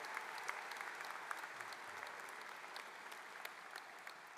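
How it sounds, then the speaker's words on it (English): High school graduation crowd gives a round of applause for student speakers; a faint, distant, steady patter of many hands clapping with occasional sharper individual claps standing out. "Could we have one final round of applause for all the outstanding student speakers we heard today?"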